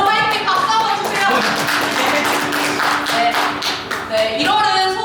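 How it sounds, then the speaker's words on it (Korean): A church congregation clapping together after a cheer from the front, a brief burst of applause mixed with a voice speaking over it. "모두 화이팅 박수 한번 주세요."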